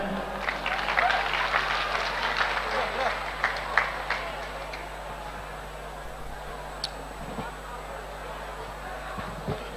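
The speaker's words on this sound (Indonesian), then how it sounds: "Beri tepuk tangan." Audience applause at a religious quiz at a university, brisk clapping that rises quickly and fades after about five seconds into room murmur and a few stray claps.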